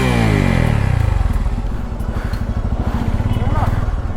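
A Bajaj motorcycle engine idles with a steady, close thumping beat after a brief rev that falls away at the start, its fast pulsing loud and continuous throughout.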